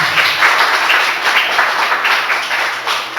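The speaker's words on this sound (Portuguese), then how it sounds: "Dá mais um aplauso ao Senhor Jesus." A congregation at a Christian worship service applauds with steady, dense clapping that sounds fairly close and full, with no voices over it.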